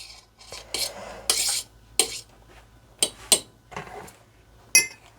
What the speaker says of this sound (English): give it its final stir